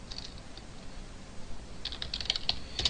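Someone types code on a computer keyboard, soft scattered keystrokes at first, then a quicker cluster of close, crisp clicks toward the end.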